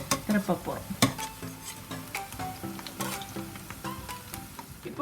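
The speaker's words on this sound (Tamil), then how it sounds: "இப்போது ஒரு பக்கம் வெந்து கொண்டு இருக்கிறது. இனி மற்ற பக்கம் திருப்ப போகிறோம்." Spinach vadai frying in hot oil crackle in a close, uneven bubbling sizzle, with several sharp utensil taps and scrapes as the fritters are turned over.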